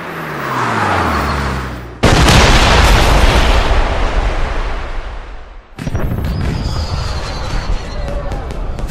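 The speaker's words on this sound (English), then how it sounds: "Did you know there were going to be fireworks?" Fireworks go off in the James Bond 007 Blood Stone video game: two heavy booms with long rumbling, crackling tails, the first partway in and the second near the end, over dense game sound.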